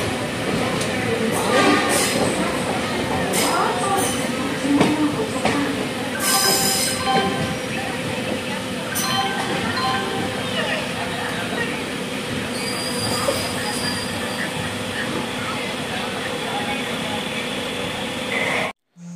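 Coimbatore-Madurai Intercity Express, a fully unreserved train, rumbles along steadily with wheel clatter and high metallic squeals, loud and close throughout, with some voices faintly underneath.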